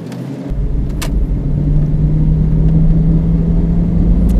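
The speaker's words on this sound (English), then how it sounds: "We're gonna give it some gas here." A Jeep Grand Cherokee ZJ with 247,000 miles builds from a low rumble into a steady, loud engine drone as it accelerates under gas, close and continuous with no talking.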